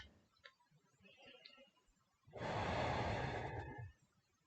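A slow, deep breath during a calm Hatha yoga session for anxiety: faint, soft sounds at first, then one long, close, airy exhale lasting over a second before fading into near silence.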